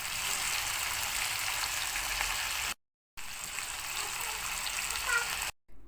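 Peas, carrot and potato fry in a pan, giving a steady, close hiss of sizzling that runs on evenly, breaks off briefly twice, then picks back up.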